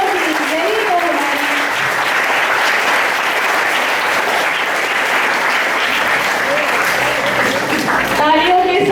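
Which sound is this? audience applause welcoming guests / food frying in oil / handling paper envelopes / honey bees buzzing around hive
audience applause welcoming guests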